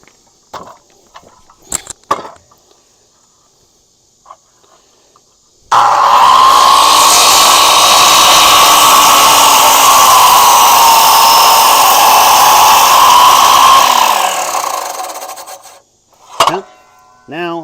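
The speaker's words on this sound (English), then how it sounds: "I'm going to go ahead and use a little bit bigger saw to cut these next ones" A larger power saw rips with the grain down a wooden deck post, a loud continuous cutting roar lasting about eight seconds after quiet handling noises, then winding down.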